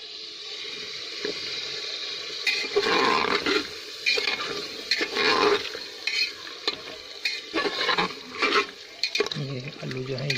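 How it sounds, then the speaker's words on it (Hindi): Potatoes fry in a masala while they are stirred in a pot. Scraping and bursts of sizzle come in uneven pulses, loud and close, with clatters of the utensil between them and no voice. "ये आलू जो है इसी मसाले में कुछ देर भुने जाएंगे।"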